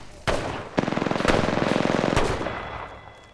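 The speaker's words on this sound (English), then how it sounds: "Good shots, Ratchet." A fast automatic weapon fires a single close, loud burst of rapid shots in the console version of Apex Legends, with a few sharp single cracks around it and no talking.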